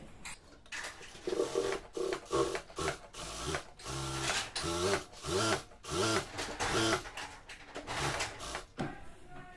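A sewing machine stitches a bartack on a salwar, running in short, rhythmic mechanical bursts that start and stop repeatedly, close and moderately loud.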